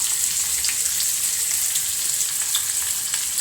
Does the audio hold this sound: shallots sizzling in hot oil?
yes